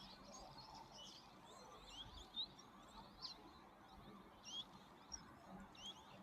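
African finches chirp at a waterhole, with faint, scattered high tweets repeating over a steady outdoor background hiss.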